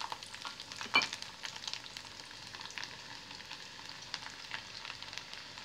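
Garlic frying in hot sesame oil for a lemon pickle, a steady close sizzle and crackle with a sharper pop near the start, no voices.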